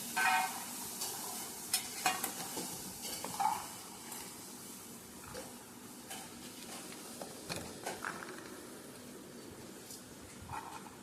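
Curry fries in a pan at home with a faint, steady sizzle. Soft stirring scrapes and occasional light clinks of utensils come over a quiet room background.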